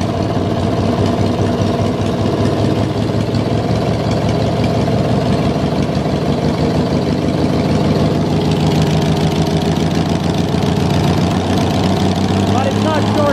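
Small engine of a race lawn mower running at a steady idle during a charging-system test, a loud, even rumble lasting throughout, with someone talking over it.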